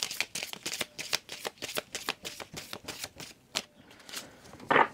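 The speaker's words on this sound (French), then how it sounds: "je les prends dans le sens là parce qu'elles sont tellement longues ces cartes" Long oversized cards handled and shuffled close to the mic, a rapid run of crisp riffling bursts for about four seconds, then quieter shuffling and one louder flick at the end, with no talk over it.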